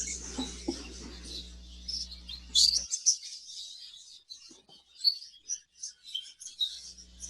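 Several budgerigars in an aviary chirp and tweet in quick, uneven bursts, fairly close, after a low hum cuts out; no talking.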